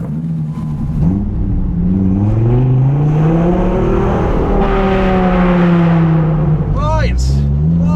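A car pulling away and driving off after a day at Goodwood, engine note rising and shifting through gears, steady and close inside the cabin, with someone talking over it throughout.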